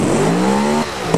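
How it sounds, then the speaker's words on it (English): A GT3 racer built from a V8 Supercar, in a video game, revs up with a rising, buzzing tone, then drops off sharply with a quick pop at the end. "Oh my god, did you hear that pop?"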